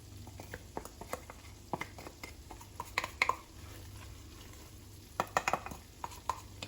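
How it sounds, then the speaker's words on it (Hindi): Whole spices and ground masala for Punjabi-style cauliflower, carrot and turnip pickle frying in oil in a pan, a steady low sizzle with scattered stirring clinks and scrapes, clusters of sharper crackles near the middle and end, no talking. "और इसे हम थोड़ा सा पका लेते हैं मसालों को।"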